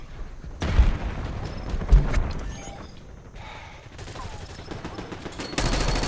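Gunfire and a grenade blast from the video game Call of Duty Black Ops: loud bursts of shots and booms, close and layered, with a continuous noisy battle wash.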